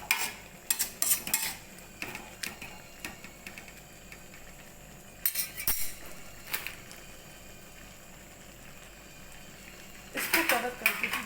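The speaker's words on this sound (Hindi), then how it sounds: "मसाला मिक्स कर दीजिए थोड़ा" Maggi noodles are stirred with masala in a pan, a metal spoon clinking and scraping against it in irregular bursts over a faint low sizzle.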